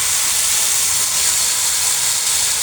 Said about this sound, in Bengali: সরিষার তেল দিয়ে ভেজে দেবো, আর সরিষার তেল দেবো না, সাথে দিচ্ছি ধনিয়া পাতাটা